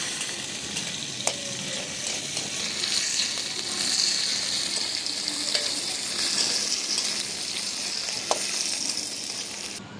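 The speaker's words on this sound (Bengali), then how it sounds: "মাংসটা সেদ্ধ না হওয়া পর্যন্ত তেলের উপরে ফ্রাই করে নেব" Thinly sliced meat fries in hot oil with a continuous bright sizzle, punctuated now and then by soft clicks of stirring against the pan, close and steady throughout.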